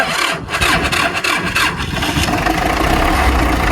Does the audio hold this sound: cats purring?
no